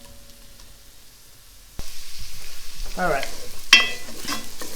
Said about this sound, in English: It's starting to sizzle now.